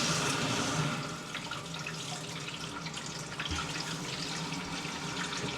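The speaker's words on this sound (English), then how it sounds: "We can turn the water on, we can do some test flushes." A newly installed toilet cistern fills with water in a steady rushing hiss, even and close, with a slightly louder start and no voices.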